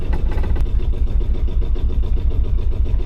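A sailboat's inboard engine runs at a steady, loud, close-up rumble with an even throbbing pulse throughout, the motor still going before being switched off.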